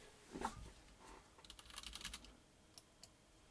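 Typing on an IBM Beamspring 3277 keyboard, a quiet, irregular run of sharp key clacks and springy thuds, some in quick bursts and some spaced apart, with no talk over them.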